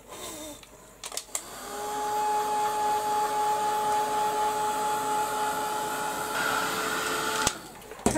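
A handheld dryer blows on mixed media paint coating a bottle, a steady close whirring hum running for about six seconds after a few clicks and knocks, then switching off.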